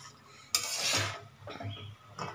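Peas and bottle gourd are stirred in a pan, giving a burst of clattering spoon-on-metal scraping followed by a few softer knocks and scrapes, close and with no talk.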